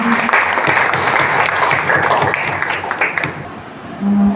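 A crowd claps steadily throughout, a dense, even wash of applause at fairly high volume.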